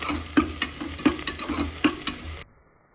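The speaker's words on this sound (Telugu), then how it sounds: "దంచుకున్న అల్లం వెల్లుల్లి పేస్ట్ వేస్తున్నాను. నూనెలో కొంచెం వేగనివ్వాలి." Ginger garlic paste frying in oil for mutton biryani, a steady sizzle broken by a few sharp spoon taps against the pan, ending abruptly in silence.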